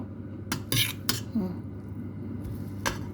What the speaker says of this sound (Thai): คลุกเข้าให้เข้ากัน